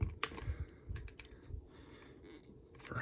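Frayed elastic bands inside the arm of a Wampa action figure being cut, giving a few close, soft clicks and snips with low handling rustle and no talk.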